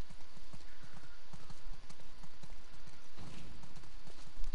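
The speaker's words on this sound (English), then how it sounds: "Let's get back to the horses." Horse hooves clip-clop in a steady, close rhythm in the video game The Last of Us Part II, with a brief whinny or snort among the footfalls.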